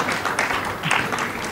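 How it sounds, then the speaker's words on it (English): Audience applause at a Bombay Velvet game launch event with stars on stage, a steady wash of clapping mixed with crowd noise and some talk, fairly loud and continuous. "let's give them a big round of applause"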